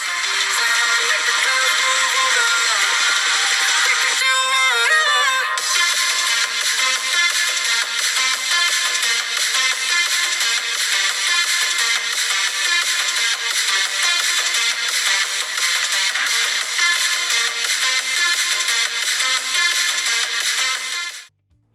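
Music plays loud and steady through the dual stereo speakers of a Redmi Note 11 phone, with a dense tonal passage and a brief pitch sweep early on before it continues evenly to an abrupt stop.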